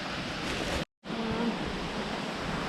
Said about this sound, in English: Waterfall's just coming down over there.